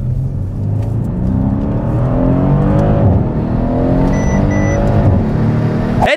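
A Mercedes car engine revs hard and loud right up close, a steady roaring drone that swells and climbs in pitch across several seconds before cutting off abruptly, with no talking over it.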